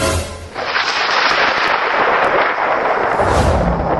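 A loud, sustained roar of rumbling thunder fills the clip, booming close and steady for several seconds before easing slightly.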